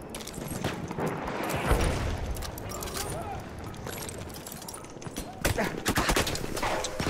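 Battlefield 1 gunfire crackles in rapid bursts amid battlefield noise, with louder clustered shots near the end; a player talks over it.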